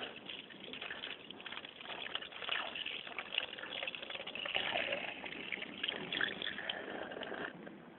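Water pouring from a watering can on an off-grid rainwater setup, a faint, steady splashing gush that runs for several seconds.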